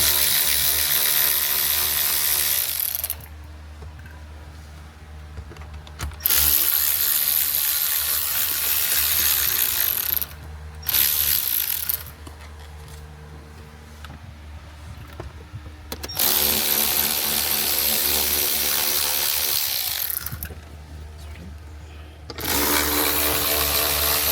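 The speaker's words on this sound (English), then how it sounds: "remove the 4 10mm bolts that secure the radio" Four 10mm bolts holding the radio in a Lexus IS dash being driven out with a power tool, loud whirring bursts of several seconds each separated by quieter pauses, close up with no talking.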